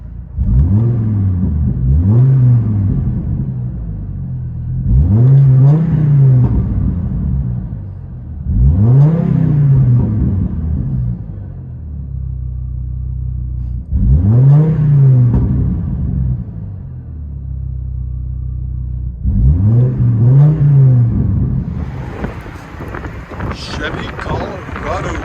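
Straight-piped 2006 Chevy Colorado with a 3.5L inline-five, heard from inside the cab: loud, rumbling blips of the exhaust rise and fall in about five revving bursts, with a steady idle drone between them.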